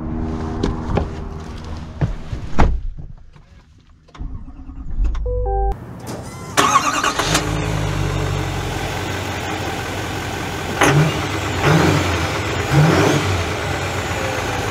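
A 2024 Chevy Silverado ZR2 Bison HD pickup truck's engine starts after a few clicks and clunks, then runs loudly and close with brief revs and a steady rumble.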